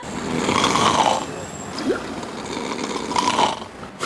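Loud snoring from a man asleep on a bus at night, with rough throaty rasps rising and falling in uneven bursts across several seconds, close and dominant over a low steady background rumble.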